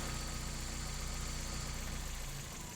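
A car engine idles roughly after an adjustment to its IACV idle air control actuator, producing a low, steady, slightly uneven hum up close, faint and alone, easing off near the end.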